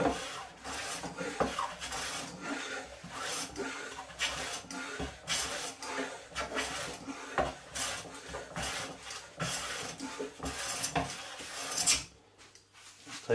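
A No.4 hand plane takes clean shavings off a wooden board during setup, giving a series of repeated close rasping strokes in a steady rhythm that stop near the end.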